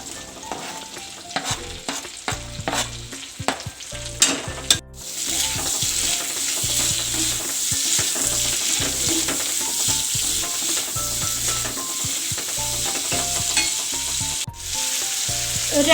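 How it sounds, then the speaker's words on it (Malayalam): Sliced onions and green chillies stir-fried in the pan used for frying fish while making fish keema: a steady, loud sizzle with rhythmic scraping and stirring strokes, after a short stretch of clattering. "നമ്മളിതായി മീൻ വറുത്ത ചട്ടിയിലേക്ക് ഇട്ട് കൊടുക്കാം കേട്ടോ."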